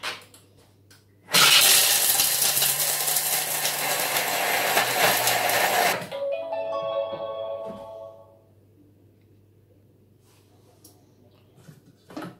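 A Thermomix food processor blitzes chocolate at speed 10. After a quiet start there is a sudden loud, dense whirring roar that lasts about five seconds, then it winds down, rattling and fading into near silence.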